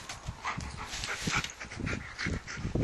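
A dog panting and whimpering close by, a quick irregular breathy rhythm with soft paw or movement sounds mixed in, fairly quiet and with no one talking.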